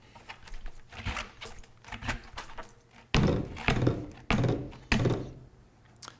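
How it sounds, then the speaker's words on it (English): Road bike wheel fitted with a tubeless tire being bounced and shaken to spread sealant, giving a run of dull thunks, soft early and then four louder, evenly spaced knocks close by. "Shake and bounce the wheel to evenly distribute sealant and help seal the casing of the tire."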